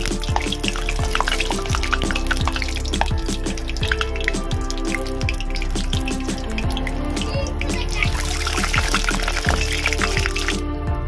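Pumpkin flower fritters sizzle steadily in hot oil, a continuous dense crackle with scattered sharper pops and spits, close and alone without talk.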